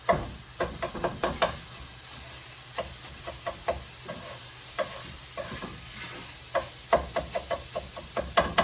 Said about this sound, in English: the first thing I'm going to do is fry up my turkey